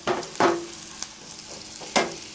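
Food frying lightly in a pan, a faint sizzle broken by a few sharp scrapes and stirring knocks from a utensil, close by with no talk.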